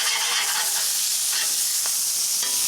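A smash burger seasoned with smoked apple salt sizzles loudly on a hot griddle as it is flipped, a dense continuous frying hiss close up with a few brief scraping accents and no voices.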